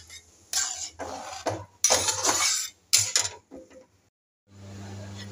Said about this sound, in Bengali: দিয়ে ভালো করে মিক্সড করে আবার ঢাকা দিয়ে দেবো